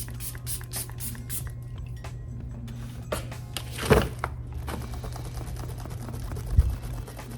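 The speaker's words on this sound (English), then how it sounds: "I'm gonna do a little bit of a dewy finish setting spray" Several short hissing sprays of dewy-finish makeup setting spray burst one after another, followed by soft handling clatter and a couple of small knocks, close and fairly quiet.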